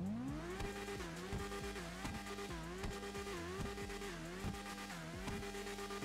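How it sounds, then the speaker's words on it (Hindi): A Yamaha YZF R6 motorbike engine in GTA 5 revs steadily with stepped rises and drops in pitch, a loud continuous synthetic-sounding drone with gear-shift-like changes throughout. "चलो अब हम इस बाइक का साउंड और इस बाइक की टॉप स्पीड को टेस्ट करते हैं।"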